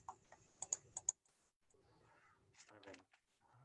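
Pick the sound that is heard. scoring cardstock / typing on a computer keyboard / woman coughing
typing on a computer keyboard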